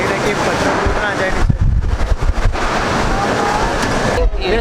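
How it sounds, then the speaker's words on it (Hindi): A strong storm wind roars steadily in Rishikesh as a loud, dense, unbroken rush that buffets the microphone throughout, with brief gusting surges and no pause. "बहुत हवा चल रहा है"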